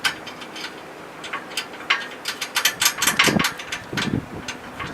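A ratchet working a 13mm bolt on a snow plow mount for a 2011 Toyota Tundra gives a series of quick close clicking bursts, irregular and fairly loud, with no talk.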